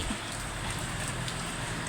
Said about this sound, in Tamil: எவ்வளோ சூப்பராக மழை பெய்யுது பார்த்திங்களா